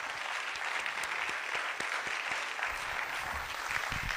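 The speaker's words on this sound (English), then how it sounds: "On peut applaudir nos invités." Steady audience applause for guests at the close of a talk event, a dense, even wash of many hands clapping throughout, moderately distant and without speech.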